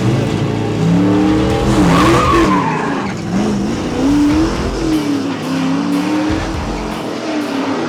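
Drag racing car on street tyres at Santa Pod during a street weekend: loud, close engine roar with prolonged squealing wheel spin, pitch rising and wavering for several seconds before easing off.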